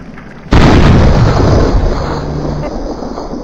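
A single loud gunshot from the Fallout 3 video game bursts in sharply after a quiet moment, then rolls off into a long, fading boom and echo.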